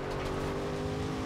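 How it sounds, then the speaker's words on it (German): A Lexus engine in the racing game Forza Horizon 2 on Storm Island revs with a deep, steady, throaty drone, loud and continuous throughout with no talk over it. "Boah, der Motor klingt ja krass."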